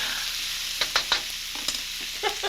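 Garlic and vegetables flash-fry in a hot pan for a couscous stir fry, with a continuous sizzle broken by several sharp spatter bursts and stirring scrapes.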